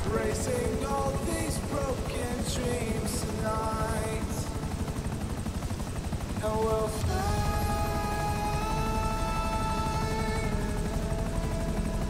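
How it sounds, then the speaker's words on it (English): A helicopter flies in Grand Theft Auto V during a prison-break heist, its rotor a loud, continuous drone that runs throughout, with tonal game sounds and music layered over it. "As long as this guy don't crash the helicopter"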